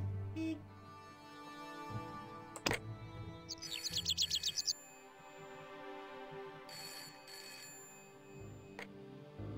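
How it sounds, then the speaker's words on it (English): A telephone rings in the Director's Cut of the video game Broken Sword: Shadow of the Templars, giving one brief burst of rapid trilling rings over steady game background sound. "We can still use the phone to ring that tailor"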